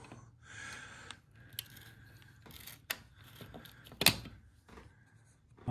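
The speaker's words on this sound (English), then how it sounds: "I want to take these 2 screws, that and that out." Screws being removed from a thermostat wall plate, a series of small close metallic ticks and scraping clicks from a screwdriver, with one sharper click near the end, quiet in a still room, no talking.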